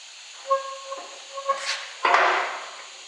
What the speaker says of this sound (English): I'm going to try to rip the old valve stem out real quick with the tire on it